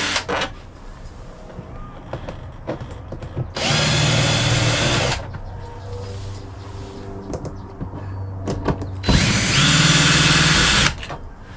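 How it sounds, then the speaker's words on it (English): Power drill backing out the four screws of a spa panel on an Aquaterra Spa Benicia model, two loud sustained whirring bursts a few seconds apart, with quieter handling clatter between them. "Take the 4 screws out, put them somewhere so you don't lose them."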